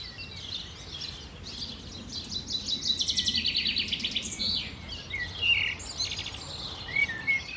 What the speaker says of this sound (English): Wild parakeets make a racket